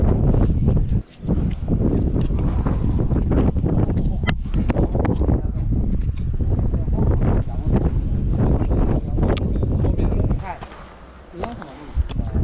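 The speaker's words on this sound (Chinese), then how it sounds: "这里风很大哎。" Strong gusts buffet the microphone on an exposed mountain ridge beside a cliff edge, a loud continuous roar with rumbling surges, while a person talks over it.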